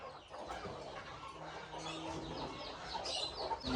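Aseel chickens cluck softly amid a busy, constant wash of farmyard bird chatter, all fairly faint and continuous.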